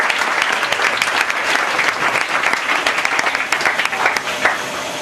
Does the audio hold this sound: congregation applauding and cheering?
yes